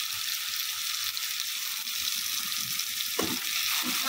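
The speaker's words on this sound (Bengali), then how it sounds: "এবার আমরা নাড়িয়ে নেব, মশলাটা ভালো করে ভেজে নেব।" Spice masala with turmeric and chili powder frying in a pan for a fish curry, a steady bright hiss of sizzling oil with a brief scraping stir near the end.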